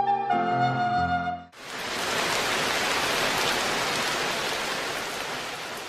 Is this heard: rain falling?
yes